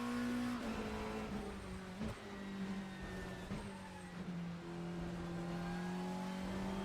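A GT-MX Macca V8 GT3 race car in Assetto Corsa roars steadily through corners, its engine note rising and falling with brief dips as it shifts, loud and close with no voices.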